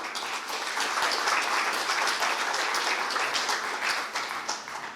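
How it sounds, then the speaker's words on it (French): Sustained applause from an audience thanking round table panelists at an agri-food climate event, dense clapping from many hands that holds steady for several seconds and then fades slightly, with no talking over it. "Je vous propose de les applaudir."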